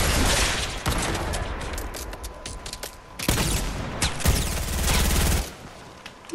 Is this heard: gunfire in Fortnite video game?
yes